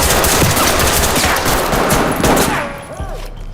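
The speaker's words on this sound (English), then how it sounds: "He's up there shooting. Shots fired." Rapid bursts of gunfire crackle loudly through most of the stretch, dense automatic volleys close by, thinning out toward the end as a few scattered shots remain during a tactical building clearance.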